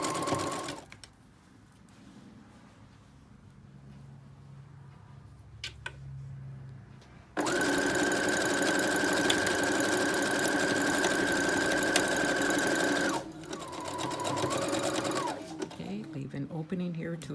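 A sewing machine stitches an elastic casing on a plain white tee, running in one long steady burst after quieter handling noises, then a second shorter run, close and loud with no talk.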